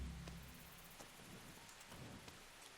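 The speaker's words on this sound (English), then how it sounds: "Oh, it's raining now." Steady rain in the video game Kingdom Come: Deliverance hisses across the whole clip, a dense wash of drops with a low rumble at the start, continuous and moderately close.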